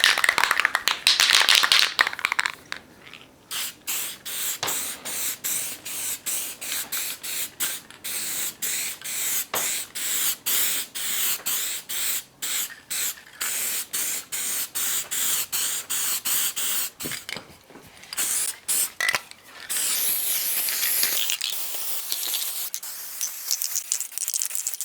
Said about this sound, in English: I'm just going to use the contact spray glue and spray just a light coat on both surfaces.